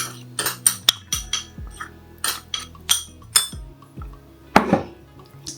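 A spoon stirs a vegan dish in a pot, knocking against the sides in a loose string of sharp metallic clinks with short pauses between them.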